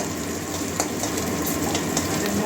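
Steady crackling sizzle of nigella seeds frying in hot oil, continuous and close, with no voices.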